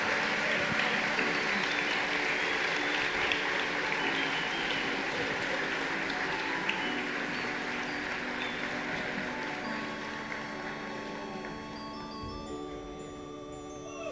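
An audience at a game awards ceremony applauds Cybot Studios, winner of best game 2023, a long even spread of clapping under sustained music tones, gradually easing off toward the end.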